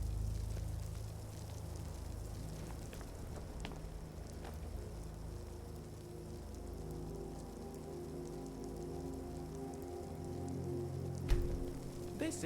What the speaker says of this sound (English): Don't you just love a bit of rain?